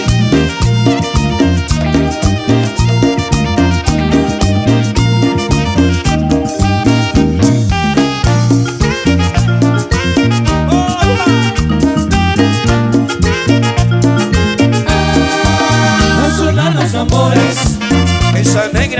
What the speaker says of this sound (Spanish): Vamos con la cumbia colombiana para todos ustedes.